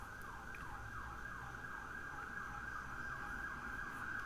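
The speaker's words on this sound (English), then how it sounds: "Listen to that siren out there." An emergency siren wails outside in repeating rising and falling sweeps, somewhat distant and steady throughout.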